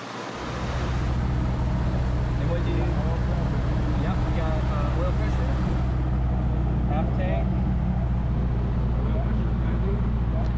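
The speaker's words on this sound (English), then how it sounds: "Engine gauges are looking good, and we were letting the engine warm up." A Rotax Turbo 9-series engine on a gyrocopter idles steadily as it warms up, a constant low droning hum close to the microphone with a faint voice underneath.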